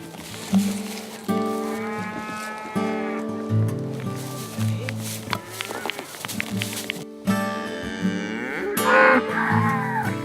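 Dexter cattle moo loudly and repeatedly nearby, several long lowing calls overlapping, with some rustling and movement between them.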